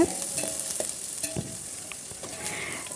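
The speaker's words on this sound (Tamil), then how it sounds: "அது கூட நம்ம பொடிசாக கட் பண்ணி வச்சுருக்கிற பூண்டு வெங்காயம் இது ரெண்டையும் சேர்த்து நல்லா வதக்கிக்கோங்க" Garlic and onion frying in a pan with mustard seeds and urad dal for keerai kootu, a steady close sizzle with a few scraping stir strokes, no talking.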